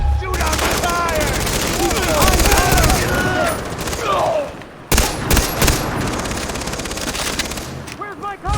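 Gunfire during a firefight in the Far Cry 3 video game, with rapid bursts of automatic weapons and loud single shots, and voices shouting over the shooting.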